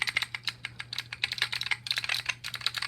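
Fingers type on a clicky Alps mechanical keyboard, a quick, uneven run of crisp close key clicks, bunching into a dense burst near the end, over a faint steady hum.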